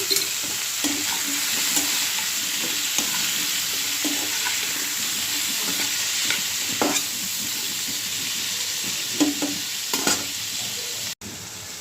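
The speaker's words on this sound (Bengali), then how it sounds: "ব্রোকলি, আলু আর হচ্ছে পেঁয়াজের কলিগুলো একটু ভেজে নেব এই চালটার মধ্যে।" Broccoli, potato and onion stalks fry in a pan with turmeric and salt, a loud, continuous sizzle close by, punctuated by repeated scraping stirs and clinks throughout.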